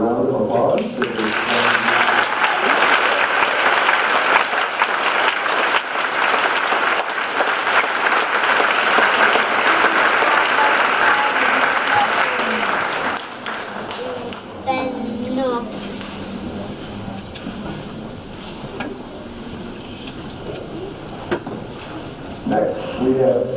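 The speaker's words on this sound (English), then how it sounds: "Ladies and gentlemen, please give a round of applause to" Loud, sustained audience applause fills a youth assistance awards ceremony for about thirteen seconds, then fades into quieter room noise with scattered claps and murmurs.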